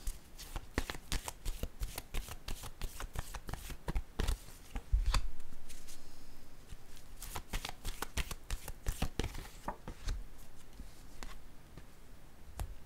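Tarot cards being shuffled produce a close, crisp run of rapid riffling clicks and flutters, with a brief pause and a soft thud partway through, without talk.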